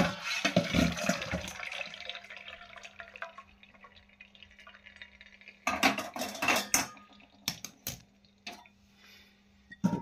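Boiled chopped taro is tipped into a metal colander to drain in a home kitchen: scattered metal clanks and scraping come first, then short splashing pours and clatters, fairly quiet and close, with no speech.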